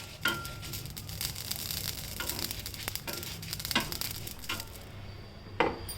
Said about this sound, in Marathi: मोहरी, जिरी, बडीशेप, मेथी चांगली भाजून घ्यायची कढईमध्ये.